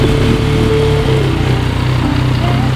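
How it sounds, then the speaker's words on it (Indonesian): A Yamaha MT-09 motorcycle fitted with an Akrapovic exhaust idles and revs up close, a loud steady engine rumble with a brief rising tone, heard alone without talk. "Langsung kita cek sound aja untuk suara knalpotnya."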